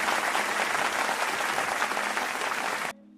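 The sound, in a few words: applause and cheering in a film scene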